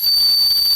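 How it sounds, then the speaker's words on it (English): A small, extremely light aluminium survival whistle blown in one steady, loud, shrill tone held for under a second, with no talk. "Small aluminium whistle,"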